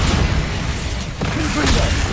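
Bombarda spell explosion from the video game Hogwarts Legacy on PS5: a dense, sustained low rumbling blast that fills the whole clip at steady loudness, with game music and effects layered on top.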